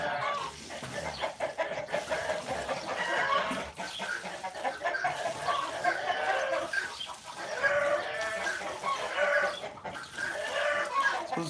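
A flock of backyard hens breaks into loud, excited clucking and cackling after one has laid an egg, the calls overlapping continuously at moderate distance.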